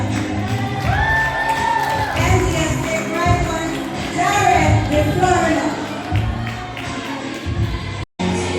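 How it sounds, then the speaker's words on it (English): A graduation ceremony crowd cheers, whoops and claps for an NGSA graduate, a loud, dense roar of voices and applause continuing under an announcer's voice before cutting out abruptly near the end. "Round of applause for NGSA graduate Jared Floriman."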